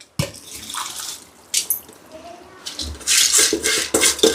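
Rice tipped from a container into a pot of boiling water for home-made chicken biryani, giving a few splashing pours and sloshes close by, with a voice talking over it.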